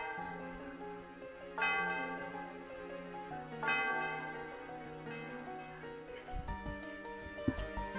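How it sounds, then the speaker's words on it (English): A church bell in the video game Pokémon Black tolls three times at roughly two-second intervals, each strike ringing out with a long shimmering decay over a soft musical background. "The sound of the bell reverberates through the area."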